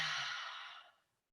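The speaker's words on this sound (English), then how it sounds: "you can just hear me doing a nice breathing sound in your ears" One long, airy breath released close to the microphone during a mindfulness exercise, a soft hissing exhale that fades steadily to silence within about a second.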